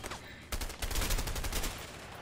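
Rapid bursts of gunfire from the video game A Way Out crackle for about a second and a half, loud and dense, after a short quieter stretch of game noise.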